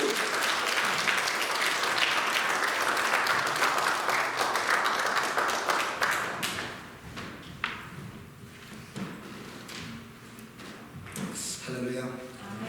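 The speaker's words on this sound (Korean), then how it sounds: "우리 박수로 한번 환영해 드릴까요?" A church congregation applauds loudly and steadily for about six seconds to welcome a visiting pastor at a Sunday service, then the clapping thins into scattered claps and room noise.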